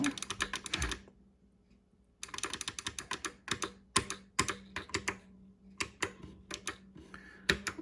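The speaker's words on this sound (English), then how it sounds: "the buttons are very clicky" Clicky buttons on an Arcade1Up Asteroids cabinet are pressed in quick rapid bursts of sharp taps, pausing for about a second before clicking on again in fast clusters, close and crisp with no talk.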